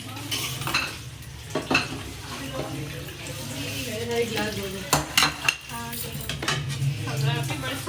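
Dishes are washed with utensils clinking and clattering against each other under a tap running at full flow, with a few sharper knocks and faint speech in the background.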